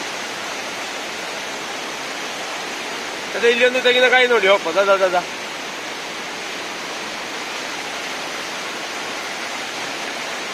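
Water pours over Nekkarekalaya dam in a steady, dense roar, with a brief spell of talking partway through.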